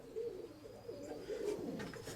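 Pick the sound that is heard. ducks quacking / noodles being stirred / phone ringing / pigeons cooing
pigeons cooing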